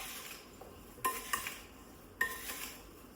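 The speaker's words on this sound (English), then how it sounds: "I'm just going to give it a whole bunch of really solid stirs here" Potatoes are stirred with an onion soup mix marinade in a bowl, giving a quiet background and a few sharp clinks and scrapes of a spoon against the bowl, heard close and alone.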